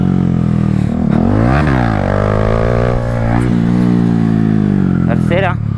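A motorcycle engine revving loudly and close, its pitch rising and falling as it shifts up into third gear with a new clutch, and a voice speaks briefly over it.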